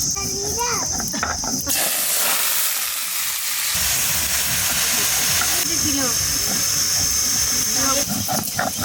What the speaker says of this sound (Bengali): ফুলকপি কেটেছি ফুলকপিটাকে ভেজে নিই